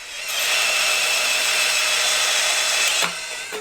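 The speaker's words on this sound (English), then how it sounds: "to drill the fudge out of it. I've gone for a 20mm hole saw" A power drill with a 20mm hole saw whines loudly and steadily for about three seconds while cutting into a bike part, then winds down abruptly.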